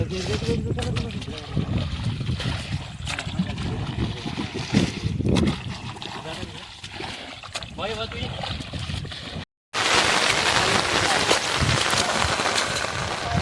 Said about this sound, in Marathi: एकदम का आलाय पाऊस